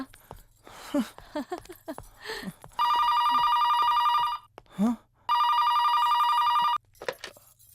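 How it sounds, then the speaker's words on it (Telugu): A mobile phone ringtone in a comedy scene plays a bright, repeating electronic melody in two long loud bursts, with people talking in the gaps before and between them. "అదా రింగ్ టోన్ బామ్మా"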